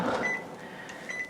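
Beeps and button presses while a microwave oven is set to a 20-minute cook time in a home kitchen, a faint high tone and soft clicks over low room noise.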